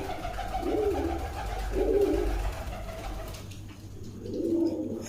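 Several low, throaty pigeon coos sound close by, coming in slow repeated bursts over a faint background hum.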